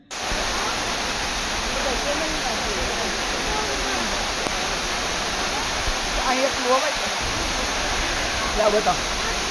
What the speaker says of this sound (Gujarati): વહેતા ઝરણાની મોજ